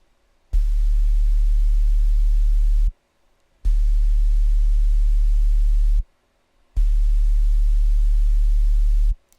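Three long, loud unprocessed synth tones, a deep sine wave hum with a faint hiss of white noise and no effects, each lasting a few seconds, separated by short silences.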